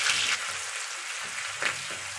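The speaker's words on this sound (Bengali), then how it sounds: "পেঁয়াজটা দিয়ে দিন, পেঁয়াজ ভাজি, পেঁয়াজটা দিতেছি" Onion goes into hot oil already holding cinnamon, cardamom and cloves, producing a loud, steady, dense frying hiss that runs throughout with a couple of brief surges.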